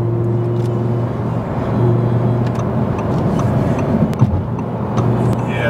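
A 2017 Audi R8 supercar engine that revs to 9,000 RPM runs in a steady, loud drone with a low harmonic hum, swelling slightly near the middle and holding close throughout.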